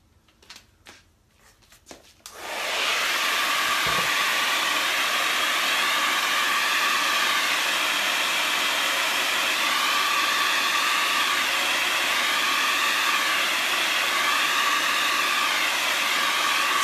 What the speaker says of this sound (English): I'm gonna just hit it with the blow dryer real quick